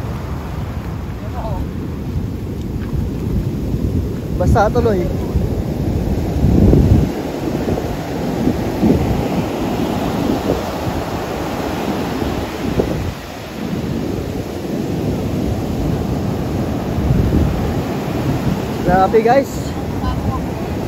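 Strong waves crash heavily on the beach at Morong, Bataan, a constant roaring surf with deep booming surges and wind rumble on the microphone, while people talk and exclaim over it.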